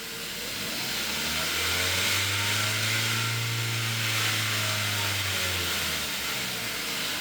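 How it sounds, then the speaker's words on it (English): A Kia car engine with newly fixed bearings revs up from idle, holds a strong steady drone for several seconds without knocking, then drops back down; no voices. "let's give it some rev and see what happens"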